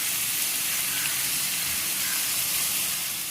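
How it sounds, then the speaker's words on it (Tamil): Chicken pieces frying in hot oil in a pan give a steady, dense, loud sizzle that holds evenly throughout with no voices. "இந்த சிக்கனை வந்து நம்ம இதில் போட்டுடலாம். நம்ம இதை நல்லா ஃப்ரை பண்ணி எடுத்துக்கிட்டா"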